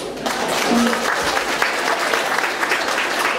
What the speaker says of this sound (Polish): Wielkie brawa dla drużyny